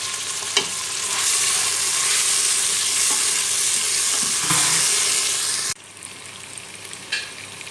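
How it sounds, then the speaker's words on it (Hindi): Garlic sizzles and hisses loudly in a hot pan with occasional stirring clatter, then the frying noise drops abruptly to a quieter crackle. "लहसुन डाल के तो इसको हल्का फ्राई कर लेते हैं।"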